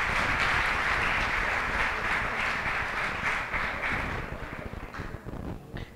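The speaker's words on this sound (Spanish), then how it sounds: "Gabriela y José Pablo, les damos un fuerte aplauso y le hacemos entrega de un reconocimiento" An audience at a national archivists' conference applauds, a dense burst of clapping that holds strong and then thins out and fades toward the end.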